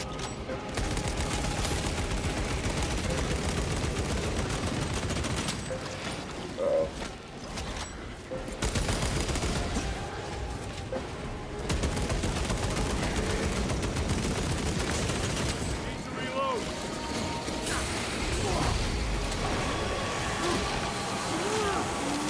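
Dense, continuous gunfire fills the Warhammer 40k Space Marine 2 game as rapid bursts run back to back, with a brief lull partway through before the firing resumes loudly.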